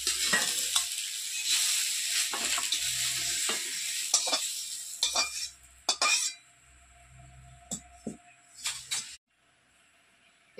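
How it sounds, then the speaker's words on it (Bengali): Ridge gourd and potato fry in a pan, hissing and sizzling under repeated spatula scrapes and metallic clinks, then the sizzle dies away, leaving a few sparse knocks near the end. "ঝিঙে আলু এখন ভালো করে কষে নিয়েছি।"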